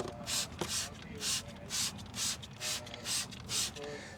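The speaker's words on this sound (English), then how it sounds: "So I've just got it on spray and I'm just gonna spray it." Air freshener is sprayed onto a carpet in about nine short, evenly spaced hissing bursts, close and fairly loud.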